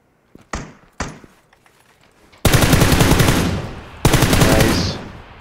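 PUBG gunfire rings out in a battle royale match: two sharp single shots, then two long, loud automatic bursts at close range, with a short lull between them.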